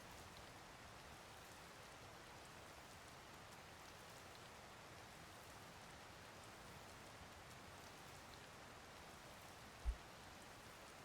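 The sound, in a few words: rain in a video game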